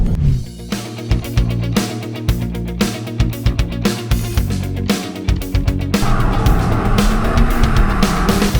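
A Renault Megane R.S. 280 Cup with a 1.8 litre turbocharged engine drives hard through corners, the engine revving loudly in repeated surges and gear changes, with a brief tyre squeal, close and alone.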